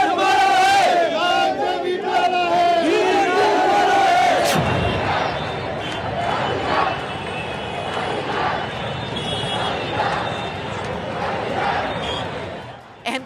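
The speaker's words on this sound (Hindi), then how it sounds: "मुंबई की सड़कों पर भारी भीड़ देखने को मिली।" A huge protest rally crowd fills a Mumbai street, roaring and chanting loudly and continuously, with a sharp burst of shouting partway through and dense crowd noise carrying on to the end.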